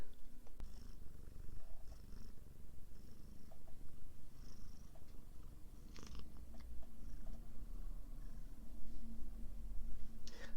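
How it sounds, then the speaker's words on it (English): A domestic cat purrs close by in a quiet indoor room, a steady low rumbling purr that runs for about ten seconds without a break. "that was a brief purr interlude brought to you by my cat, Lucifer Sabrina"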